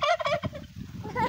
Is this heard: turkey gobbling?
yes